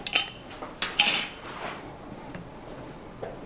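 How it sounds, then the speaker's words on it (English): Fish flakes are stirred into a Nigerian moin moin bean mixture, with a few quick utensil clinks against a bowl at the start, then softer scraping. "I'll just stir in the flakes."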